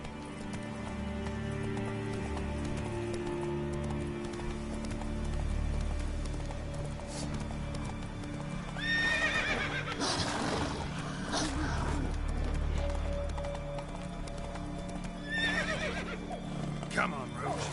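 Horse in The Witcher 3 trotting with clip-clop hoofbeats and a couple of loud whinnies and snorts, close by over a steady ambient game background.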